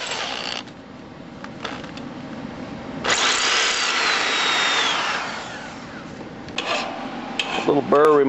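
A file rasps against metal in short strokes removing a burr on a garden tiller part, then one longer sustained scraping pass, close and fairly loud, followed by a few more quick rubs.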